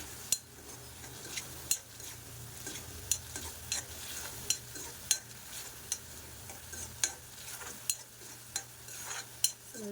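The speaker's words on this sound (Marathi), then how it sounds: "छानसं परतून घेऊया।" Drumstick pods and vegetables sauté in oil in a pan, a low steady sizzle punctuated by regular, sharp clinks of a spoon stirring against the metal, roughly every second.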